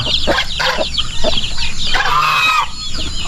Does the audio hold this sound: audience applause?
no